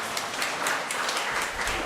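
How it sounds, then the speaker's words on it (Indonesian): A congregation applauds at a Catholic memorial mass in a church, giving soft, diffuse clapping that stays fairly even and slightly distant for the whole stretch, with no voices over it. "Tepuk tangan untuk beliau."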